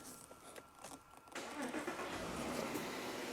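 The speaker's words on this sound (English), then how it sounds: "So now I'm gonna start the engine." An Audi Q7 in a repair shop cranks and catches after a quiet start, the engine starting abruptly partway through and settling into a steady near rumble.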